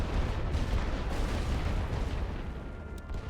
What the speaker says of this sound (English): how do we know when our artillery is gonna be finished?